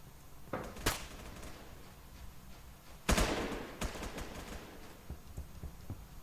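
Gunfire from Roblox Phantom Forces comes in a few sharp, fairly quiet bursts: one early shot, then a louder volley midway trailing into scattered lighter pops.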